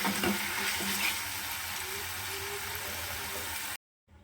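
Boiled peas and potatoes hit a frying spice paste for Bengali ghugni, a bright sizzle swelling then settling into steady frying with stirring scrapes, ending in sudden silence.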